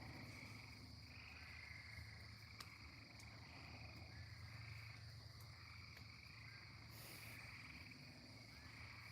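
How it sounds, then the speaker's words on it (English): Many frogs croak at night, a continuous distant chorus with faint insect trilling and no voices. "Probably a lot of frogs."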